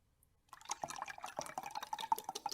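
Ice-cold isopropyl alcohol is poured into a beaker, a faint, close trickling and splashing that starts abruptly and continues unevenly with small gurgles.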